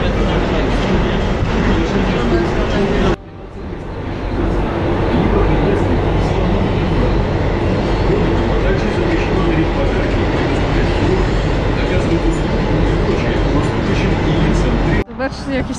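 An Almaty metro train rides between stations, a loud continuous rumble and rattle of wheels and carriage heard from inside, with brief drops in noise and people talking over it.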